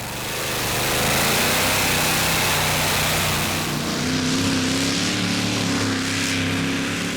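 A pulling tractor with a small, underpowered engine makes a fairly straight competition run at a Danish tractor pulling championship in Frederiksund, its engine revving loudly and continuously, rising and holding near the middle.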